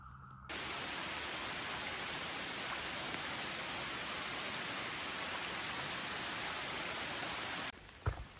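Steady rain pours down on a hiking trail along the Appalachian Trail, a dense, continuous hiss of drops on the surface that holds loud and even for several seconds before cutting off near the end.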